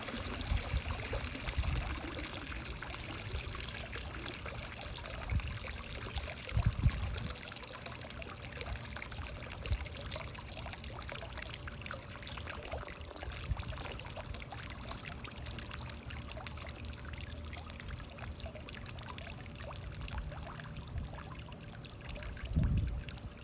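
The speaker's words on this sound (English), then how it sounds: "let the water drain out of it." Water trickles and pours steadily for a long stretch as it drains out of an Aqua Evo 502 robotic pool cleaner, with occasional louder splashes and dribbles close by.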